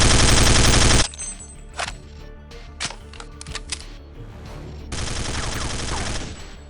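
A FAMAS rifle fires in Counter-Strike: Condition Zero, a loud rapid burst at the start, then scattered clicks and handling noises, then another sustained burst of automatic fire.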